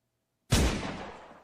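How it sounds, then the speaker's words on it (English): A single sharp gunshot sound effect bursting out after silence, loud and close, trailing off in a short rumbling decay. "Tick tock gunshot."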